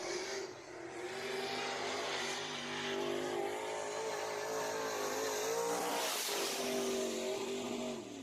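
Race cars in a heat race at Deep South Speedway, a continuous loud roar of several engines revving and droning together, steady throughout with a brief surge near the end.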